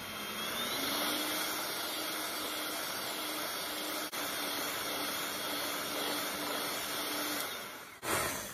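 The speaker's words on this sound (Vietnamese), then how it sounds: "mình lấy máy mình đánh nha" Electric hand mixer whipping three spoonfuls of heavy cream into stiff peaks for whipped coffee and matcha milk, a steady close whirring drone that runs nearly the whole time before cutting off near the end.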